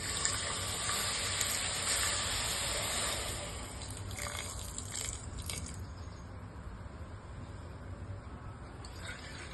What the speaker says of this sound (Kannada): ನೀರು ಹಾಕೊಳ್ತಿದ್ದೀನಿ